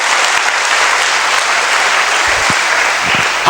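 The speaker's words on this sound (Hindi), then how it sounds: "मैंने ताली बजाई" Steady, dense clapping fills the space like a crowd's applause, continuous and fairly loud, with a few low thumps near the end.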